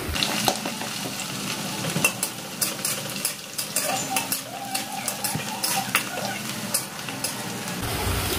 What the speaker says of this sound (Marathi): एकदम व्यवस्थित अशी मिरची परतून घ्यायची।